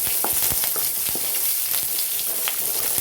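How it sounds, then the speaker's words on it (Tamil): Chopped small onions (shallots) sauté in hot oil in a pan, giving a steady, even sizzle with scattered crackles and pops throughout, close and moderately loud, with no voices. "நல்லா எண்ணெயில் வதக்கணும்"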